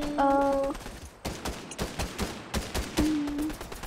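Fortnite gunfire: a string of sharp, irregular shots cracking close by, interspersed with short game tones at the start and later, no talking.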